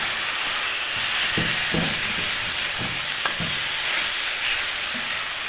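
Chicken mince with garlic sizzling steadily in a hot pan for qeema kachori filling, a loud continuous hiss with a few soft stirring scrapes and one sharp tap, no talk.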